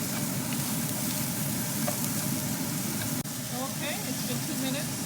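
Carrot and napa cabbage stems stir-frying for vegetable chow mein, a dense continuous hiss and sizzle that holds nearly level throughout, with a faint scrape partway through.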